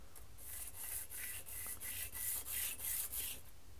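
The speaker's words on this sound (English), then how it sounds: "Let's use our sandpaper and one at a time carefully take that excess" Sandpaper rubbed over small 4140 alloy steel cufflinks to remove excess dried paint, a series of about ten quick, soft, rhythmic scratching strokes, close and quiet.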